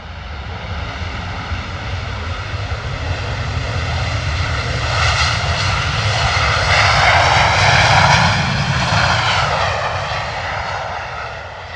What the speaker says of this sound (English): Nice and loud there from the 737.